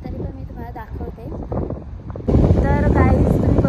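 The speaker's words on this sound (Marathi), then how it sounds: "आता जरा वाऱ्याचा आवाज जास्त आहे त्यामुळे तुम्हाला माझा आवाज कमी येत असेल" Strong wind buffets the microphone at Aare Vare beach in Ratnagiri at sunset, a loud rumbling roar that grows heavier partway through while someone talks over it.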